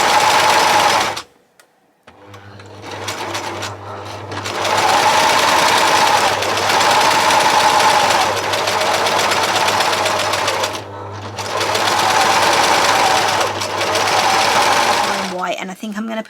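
A sewing machine stitches a pet bandana in steady buzzing bursts, stopping briefly between runs, with someone talking quietly over the whirring.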